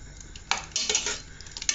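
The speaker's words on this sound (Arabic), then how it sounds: "بنقلب اللحمة مع الثوم" Meat and garlic being stirred in a cooking pot, with irregular scraping and clinking of a utensil against the pan in short bursts, close and moderately loud, with no talk.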